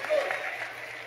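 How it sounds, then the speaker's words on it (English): Church congregation clapping hands together at a sermon, a brief steady wash of applause filling the room at moderate volume, with a voice speaking over it. "I need everybody to clap your hands"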